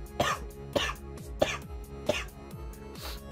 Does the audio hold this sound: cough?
yes